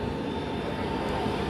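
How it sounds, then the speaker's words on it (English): Loud, continuous aircraft engine roar at the Great Texas Air Show, near an E-2C electronic warfare plane from the USS Dwight D. Eisenhower, a dense rushing noise that stays steady for the whole moment. "This is a electronic warfare plane."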